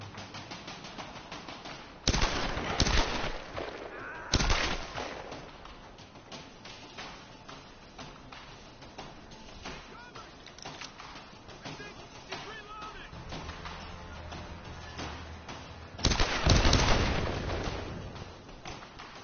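Gunfire in a PS4 video game: a few loud bursts of rapid shots stand out from a steady din of game noise, with someone talking over parts of it.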